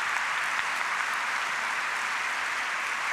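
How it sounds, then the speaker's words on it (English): A seated audience applauds three panelists after their opening statements at a discussion event, an even, sustained wash of clapping at a steady moderate level with no voices over it. "I just want to invite one more round of applause for all three of these panelists"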